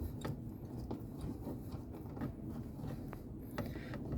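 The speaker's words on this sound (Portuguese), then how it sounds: "Fazer junto com vocês a retirada dos parafusos" Screws being removed from a Hyundai HB20 dashboard panel, quiet clicky mechanical ratcheting and small creaks of a screwdriver at work, with faint scattered ticks and a low background rumble.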